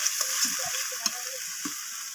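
Garlic and ginger paste with spices sizzling in hot oil for a fish curry, a steady frying hiss with a few soft stirring scrapes and spoon taps, close and even.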